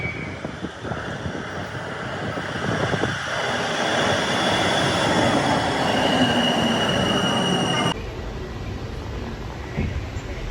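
A metro train rolling on rails, a loud close rumble with rising wheel squeal and screech that builds mid-way, then drops abruptly into a softer steady hum.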